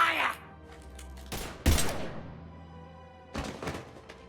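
Gunfire from the Mass Effect 3 video game comes in a few sharp bursts, with a loud shot cluster near the middle and another brief burst toward the end, separated by quieter gaps.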